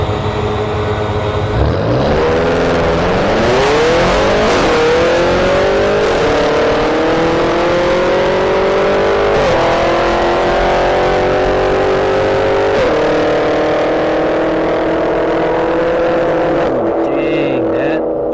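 A 750 hp BMW X6M SUV launching down a drag strip, the engine loud and close, revving up and climbing steadily through the gears with brief shift dips before it fades at the end.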